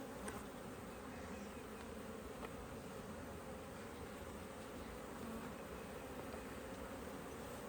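A large honey bee colony fills the air around the hive boxes with a dense, continuous buzzing drone, steady and close, with no voices.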